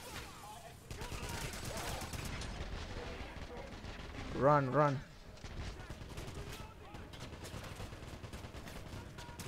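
Gunfire in the Wolfenstein video game: a dense, continuous crackle of rapid shots and impacts, with a brief louder burst in the middle, under game dialogue and a player talking.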